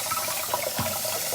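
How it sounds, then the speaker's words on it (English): Boiled potatoes are rinsed under running cold tap water, a close, steady rushing stream with no talking. "Now we're gonna be running it under cold water."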